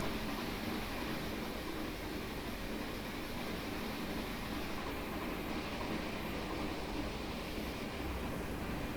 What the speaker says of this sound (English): I like that high-speed chuff sound